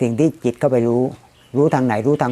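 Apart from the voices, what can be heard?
No everyday noises stand out.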